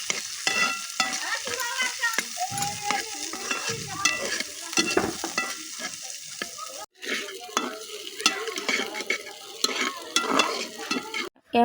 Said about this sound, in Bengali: এখন ভালো করে নেড়ে চেড়ে নিব বাদামি হওয়া পর্যন্ত।